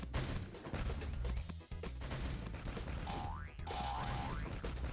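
Cannons fire repeatedly in the Wii game Mr. Bean's Wacky World, a dense run of loud booming blasts over busy game music, with springy rising boing tones near the end.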